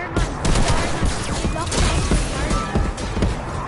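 Gunfire in the video game Fortnite: dense, rapid bursts of shots and impacts crackling continuously at close range, loud and busy throughout.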